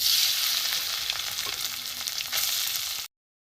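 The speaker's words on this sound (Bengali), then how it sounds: "এখানে আমার তালের শাঁস গ্রেট করা রয়েছে, এগুলো আমি ঘিয়ের মধ্যে দিয়ে দেবো।" Grated palm fruit flesh fries in hot ghee over low gas, making a steady close sizzle with soft stirring that runs for about three seconds and then stops abruptly.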